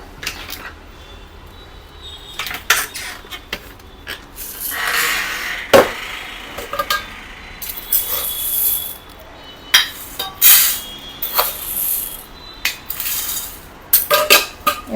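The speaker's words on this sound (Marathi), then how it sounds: "ही जाळी जी आहे ती कुकरमध्ये खाली टाकायची" A metal rack and small and large steel containers go into a pressure cooker, with repeated clanks, clinks and scrapes of metal on metal, some sharp and close, spread across the whole span with quiet gaps between.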